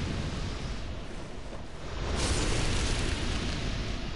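Carpet-bombing explosions in the video game DS2 form a dense, continuous rumbling roar that swells louder partway through, with no voices over it.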